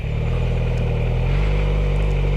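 A motorcycle engine drones close and loud, rising in pitch under a little throttle before the tone drops and steadies as the bike shifts up into second gear, with no voices over it.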